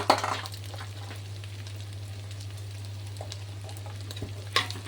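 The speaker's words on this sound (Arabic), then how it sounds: "واقلبه كويس قوي قوي قوي كده علشان الرز كله يسخن" Salted rice is stirred in a hot pot over a faint sizzle. Scraping strokes come at the start and again near the end, and a steady low hum runs throughout, with no speech.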